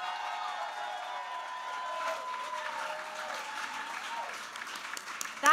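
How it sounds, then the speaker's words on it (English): An outdoor festival crowd applauds its volunteers at an awards event, a soft, steady spread of clapping mixed with drifting tonal background sound, fairly distant and continuous. "loudest round of applause ever for all of our volunteers"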